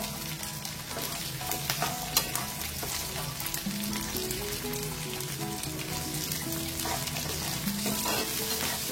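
Onions sizzle steadily in hot oil for a Tamil-style green chilli mandi, a dense continuous frying hiss with occasional stirring scrapes, close and fairly loud throughout with no talking.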